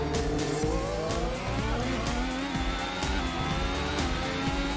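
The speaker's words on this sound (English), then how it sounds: "Bit of wheel spin." A modern F1 car in a racing video game at Long Beach, engine revving hard with tyres spinning and squealing, a continuous loud, high-pitched whine held close throughout.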